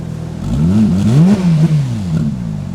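A Nissan Skyline GT-R R34 engine revs up against its soft limiter in neutral, a loud, close, throaty rise that holds and bounces near the cutoff before easing back down.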